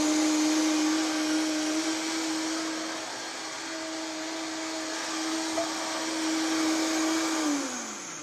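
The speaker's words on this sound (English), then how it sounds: "We're just going to blitz this up, like that." Blender blitzing soup ingredients in a television kitchen, a steady, droning motor whine holding one pitch for several seconds before winding down at the end, fairly close with no voices.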